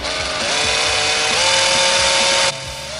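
Power screwdriver running to remove screws while dismantling decking and railway sleepers, a loud close steady whine with a rising pitch and a rapid low rattle, cutting off abruptly near the end.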